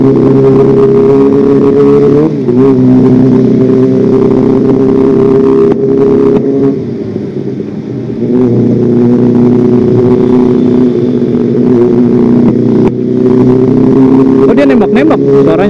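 A Kawasaki ZX-25R motorcycle engine revs loudly and continuously nearby, its high-pitched howl rising and dipping through several throttle blips, with brief crackling exhaust pops between revs.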